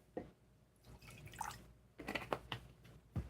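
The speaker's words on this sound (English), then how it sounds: "Let's pour some more coffee" Coffee poured into a cup indoors, faint trickling and splashing in short bursts with small drips and a light clink near the end, quiet and close.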